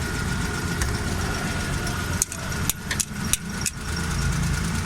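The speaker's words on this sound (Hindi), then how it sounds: "गाड़ी स्टार्ट हो गई है।" A Suzuki Bolan engine runs just after its distributor timing was adjusted, a steady close mechanical hum with a few sharp clicks and taps partway through.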